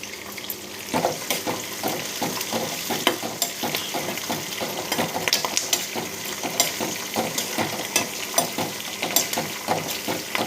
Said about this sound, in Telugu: కొంచెం కరివేపాకు కూడా వేసుకుందామండి